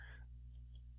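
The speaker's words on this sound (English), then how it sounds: "So if I click here, it's the same thing." A computer mouse gives two faint, crisp clicks in quick succession against a quiet, low hum.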